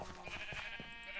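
A sheep bleats in the video game Ancient Kingdoms while sheep are carried into pens: a quiet, wavering, nasal bleat drawn out over a faint background.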